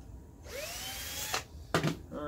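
A cordless drill whirs briefly, spinning up and winding down in short bursts while backing out hose clamps on a keg and carboy washer build.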